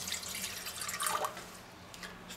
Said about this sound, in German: Das tun wir erst einmal hier Wasser rein.